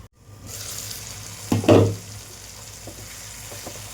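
Onion and tomato frying softly in a pan with a low steady sizzle, broken by a brief louder scrape and burst as they are stirred, then settling back to a quiet simmer.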